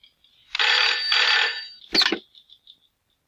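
A telephone rings with two long, bright electronic trills, then a sharp, clattering burst followed by a few faint fading chirps.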